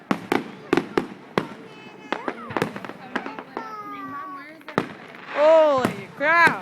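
Fireworks go off in a rapid series of sharp, loud bangs and crackles outdoors, with whistling rising tones between bursts, while excited voices talk and exclaim over them.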